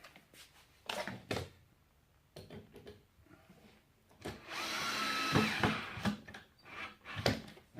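A power drill drives screws into a base cabinet in short bursts of whirring, two quick runs, then a longer steady drive followed by another, with a knock of wood between; close and fairly loud, no talking.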